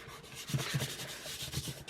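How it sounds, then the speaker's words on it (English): A paper pocket fold on a 12 x 12 handmade folder is burnished, giving soft close rubbing strokes in a quick repeated rhythm. "Just want to burnish it to make sure it stays"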